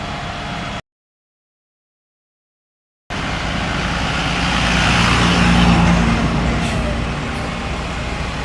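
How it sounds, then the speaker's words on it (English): Road traffic at the Springs bus stop of Disney's Saratoga Springs Resort, a resort bus stop at Walt Disney World, comes through as a steady broad rumble of passing vehicles that swells and eases, with a faint air-brake hiss. "Here is the Springs bus stop."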